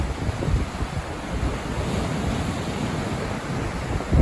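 Ocean waves wash steadily onto the seaside shore, a broad continuous roar with gentle surges, overlaid by light wind buffeting the microphone and no voices.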